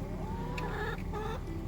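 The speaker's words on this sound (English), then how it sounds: "we had like 4 hens and 3 of the chicks out here" Hens and young chicks in a backyard flock clucking and chirping softly, a few short calls over a low, steady outdoor background.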